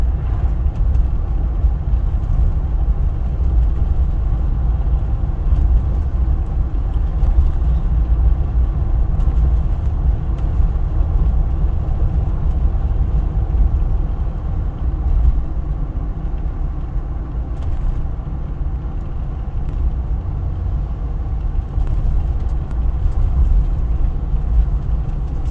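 2021 Jeep Wrangler diesel cruising during exhaust filter regeneration, a loud, steady low engine and road rumble heard from inside the cabin with no talking.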